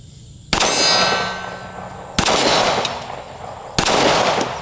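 Three loud, sharp pistol shots from a Taurus G3C, spaced about a second and a half apart outdoors, each followed by a ringing metallic clang from a hit steel target that decays slowly.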